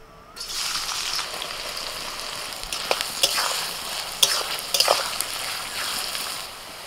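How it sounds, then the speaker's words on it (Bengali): Sliced onions for Hyderabadi chicken biryani beresta fry in hot white oil in a kadai: a steady, close, bright sizzle runs throughout, with a few sharper crackles and stirring clicks partway through. No one speaks. "সবার প্রথমে আমি বেরেস্তা ভেজে নেব।"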